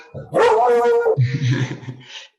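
A dog barking on a call, one drawn-out yelping bark followed by softer grumbling and whimpering sounds, close and loud, briefly alone.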